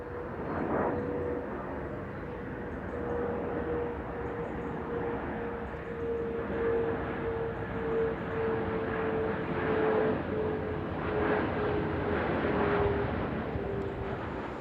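An aircraft passes overhead beneath the flight path into Düsseldorf Airport near Husel, a steady, broad jet roar that holds loud for the whole stretch, with a faint sustained whine running through it.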